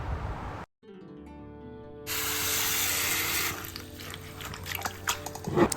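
Fresh mint and coriander leaves being rinsed under a running kitchen tap, a steady broadband rush of water starting after a brief pause and continuing with splashing and small clatters near the end.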